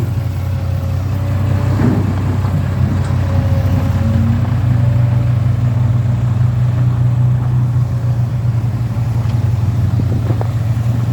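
A farm tractor working rice fields runs with a steady low diesel drone that stays loud and close throughout, with no speech over it.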